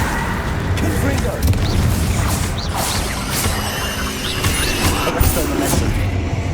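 The Confringo spell from Hogwarts Legacy detonating in a few dull booming bursts amid busy game sound, with the explosions landing mid-clip over a continuous background.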